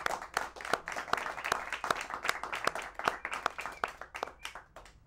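A small comedy-club audience claps for a stand-up comic, sparse and distinct handclaps in a loose uneven rhythm, close and fairly light, thinning out toward the end.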